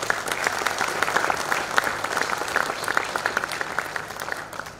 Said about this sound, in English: So let's give a big round of applause to our Vedanta.